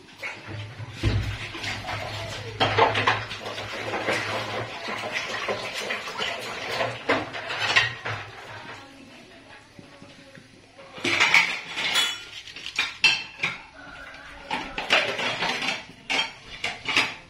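Bamboo shoot curry being stirred in a pot, with scraping, clinks and knocks of a utensil against the pot, irregular bursts at close range and some quieter stretches, with no talk.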